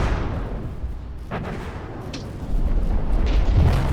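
Anti-air ship guns in a video game fire as deep, rumbling booms over a constant low roar, growing heavier toward the end.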